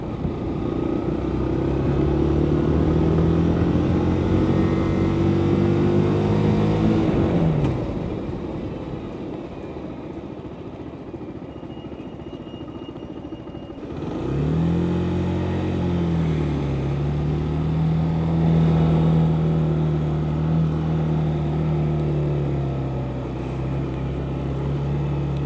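A motorcycle engine pulls away in second gear, its revs rising, easing off, then climbing again as it rolls on, loud and close throughout, with no talk.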